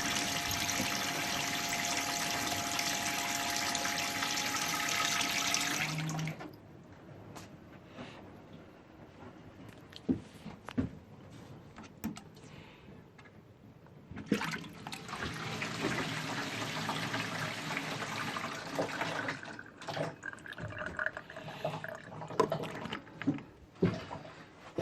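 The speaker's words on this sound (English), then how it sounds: "There we go. We have running water." A 12-volt solar-powered water pump at an allotment hums steadily while water gushes and splashes, cutting out briefly, then starting up again with trickling and bubbling flow nearby.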